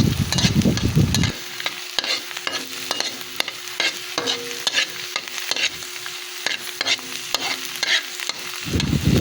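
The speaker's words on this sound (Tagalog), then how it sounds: "Pagkatapos ay magpiprito po tayo ng dalawang itlog." Two eggs fry in a pan for Filipino-style fried rice, hissing with a steady sizzle while a utensil scrapes and taps the pan in repeated strokes, close and fairly loud throughout.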